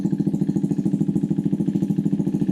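A 2025 KTM 390 Adventure R motorcycle engine idles steadily with a fast, even putter, close and moderately loud, with no voices.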